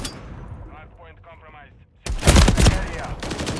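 Call of Duty Modern Warfare III gunfire erupts in a loud, dense burst of rapid shots after a quieter stretch with a voice in the background.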